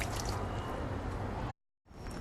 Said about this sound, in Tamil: இனிமேல் கொஞ்சம் கொஞ்சமாக தண்ணி ஊற்றி பிசைஞ்சு வச்சுக்கணும்